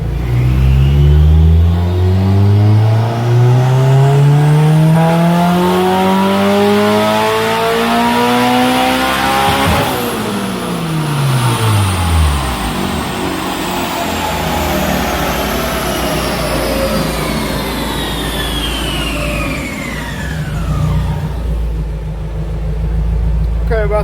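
Turbocharged B18C1 engine in a 1992 Honda Civic Si hatch revving on a dyno, a loud, steady climbing wail that peaks near ten seconds, then winds down with turbo whine while people talk.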